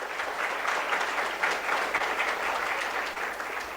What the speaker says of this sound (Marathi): सरांसाठी एकदम आपण जोरदार टाळ्या वाजवू